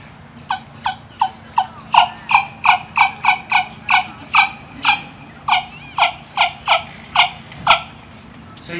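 A hollowed turkey wing-bone call imitates a hen turkey with about twenty sharp, evenly spaced yelps in a steady rhythm. It is close and loud over a faint background hum.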